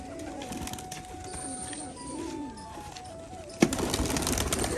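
Turkish tumbler pigeons coo softly in a low, rolling murmur that runs steadily through the clip at moderate distance. A sudden louder clatter near the end may be wings or handling.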